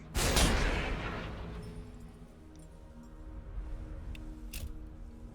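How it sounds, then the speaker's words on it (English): A seeker missile launches in Warhammer 40,000: Battlesector with a loud broadband burst and rushing whoosh that slowly fades under a low rumble, followed by a couple of fainter crackling impacts further off. "Seeker missile away."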